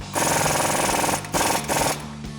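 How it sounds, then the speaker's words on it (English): Impact wrench with a 35mm socket tightening an axle nut on a RAM 1500 front hub, loud close rattling hammering in a long burst, a brief pause, then two shorter bursts. "Now the axle nut is a different size, so we grab a 35mm socket and tighten this down."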